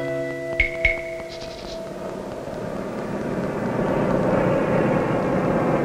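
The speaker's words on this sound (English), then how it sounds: "Float planes have opened new vistas with transportation on the highways of the sky." A float plane's steady propeller engine drone builds gradually and holds loud in flight, with a couple of brief knocks near the start.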